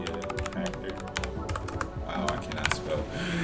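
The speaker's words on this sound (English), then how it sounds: "here you can type in, you can type in whatever you want it to be" Quick keystrokes on a computer keyboard while typing a password, close and busy, over a soft background hum.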